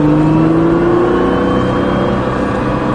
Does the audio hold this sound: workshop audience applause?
no